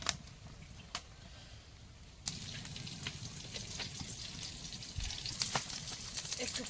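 Dried red chillies go into hot oil in a kadai. A low hiss jumps to a steady, crackling sizzle partway through and keeps on, with scattered pops, fairly quiet and close.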